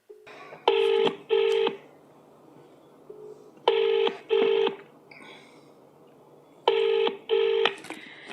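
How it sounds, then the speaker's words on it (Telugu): A mobile phone call rings out: three pairs of evenly spaced ringback tones sound clearly, with short quiet gaps between each pair and a faint background hum. "తనకు ఫోన్ చేస్తాను, ఒక్కసారి వినే ప్రయత్నం చేయండి"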